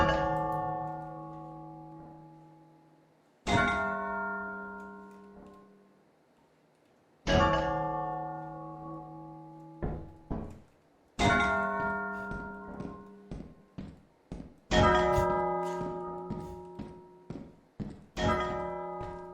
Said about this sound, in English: did you guys hear the clanging of the bells?